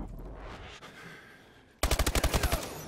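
Rapid automatic gunfire from a Call of Duty match at a 2015 championship event erupts abruptly after a quieter stretch, a loud burst of about a dozen evenly spaced shots.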